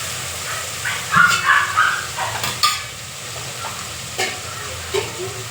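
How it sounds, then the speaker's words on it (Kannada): Vegetables for a cracked-wheat pulao frying and being stirred in a hot tempering give off a close, steady sizzle with bursts of scraping, and a couple of faint dog barks sound in the distance. "ಮುಗೀತು ಬನ್ನಿ ನೀರು ಹಾಕೋಣ"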